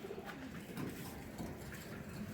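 Jalali tournament pigeons cooing faintly in a loft, soft low coos repeating over a steady background hiss.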